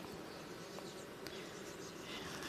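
A dense, continuous buzzing of many honeybees from a large swarm being shaken off hive frames, steady and even, with faint clicks of movement nearby.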